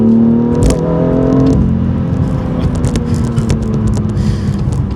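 A rear-wheel-drive 2018 BMW M2 with M Performance parts pulls under light throttle through a corner, its engine holding a steady close drone with a brief rising whine early on, then settling into a rough, even hum.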